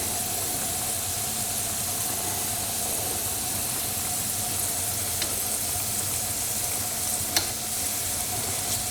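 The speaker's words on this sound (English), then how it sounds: "So we're going to let these fry and then turn them." Egg rolls fry in hot oil with a loud, dense, unbroken sizzle throughout, a low steady hum beneath it and a couple of faint clicks near the end.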